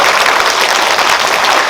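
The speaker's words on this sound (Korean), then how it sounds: "박수 한번 부탁드립니다." Dense, loud applause from a cinema audience at a post-screening talk, a continuous wash of clapping without gaps.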